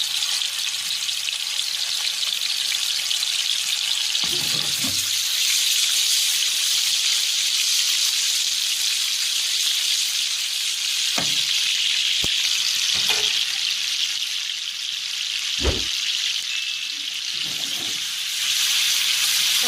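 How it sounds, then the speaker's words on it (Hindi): Koftas sizzle and crackle steadily in hot oil in a home kitchen pan, a dense continuous frying hiss with a few soft knocks and clinks of a spoon, no voices. "जी ऑयल गर्म हो गया हमारा। अब इसमें हम डालते जा रहे हैं कोफ्ते।"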